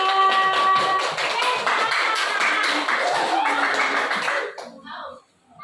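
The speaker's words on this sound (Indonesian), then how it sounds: "Berikan aplaus untuk kelompok satu" Classroom applause for group one: a dense, steady patter of many hands clapping close by for about four and a half seconds, then tapering off into near silence.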